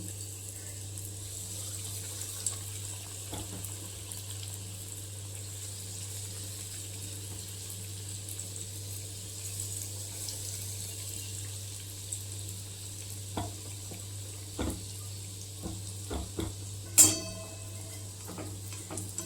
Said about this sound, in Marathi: अशा प्रकारे हे तळून घ्यायचे